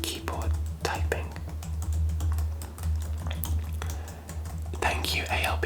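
Rapid, irregular clicking of fingers on a computer keyboard goes on steadily at close range, with soft whispering heard at times.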